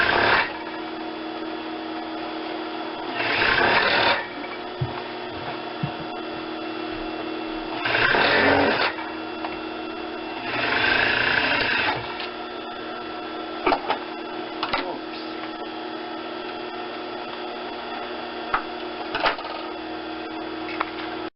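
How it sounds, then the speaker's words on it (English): Sewing machine stitching the front seam of a fabric hood, running in three short loud bursts with pauses between, plus scattered clicks and handling noises in the gaps. "sew up to the pin, take it out, and then keep going."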